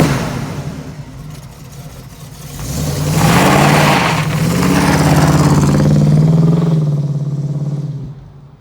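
A 1979 Pontiac Firebird Trans Am engine idles with a low rumble, then revs up loudly in two swelling pushes before settling back, heard close with no talking.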